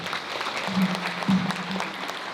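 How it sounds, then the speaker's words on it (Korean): Wedding guests applaud the couple at a ceremony: a short burst of crowd clapping with a low voice-like hum running beneath it. "두 사람을 뜨거운 박수로 축하해 주시면 감사하겠습니다"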